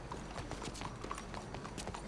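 A horse's hooves clip-clop faintly in Red Dead Redemption 2. The steps fall in a soft, uneven rhythm behind a steady background wash.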